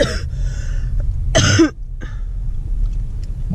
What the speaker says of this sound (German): Immer wenn ich reden will, muss ich husten.